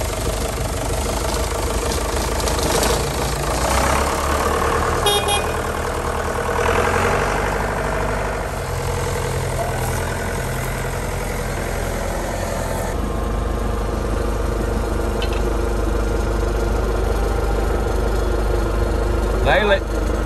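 A tractor engine idles steadily with a low, rhythmic chug throughout, close by and fairly loud, with faint voices now and then.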